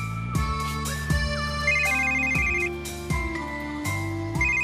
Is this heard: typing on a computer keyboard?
no